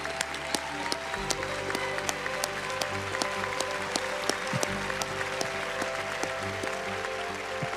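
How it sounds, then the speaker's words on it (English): An audience at an evening essay contest celebration applauds its winners, with dense, steady clapping at moderate distance and a few sharper claps standing out, but no voices. "A round of applause for them all."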